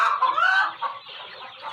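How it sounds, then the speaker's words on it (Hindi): Hens and roosters clucking close by, a few overlapping calls in a short burst with no talk. "इसमें मुर्गियाँ भी हैं, मुर्गे भी हैं"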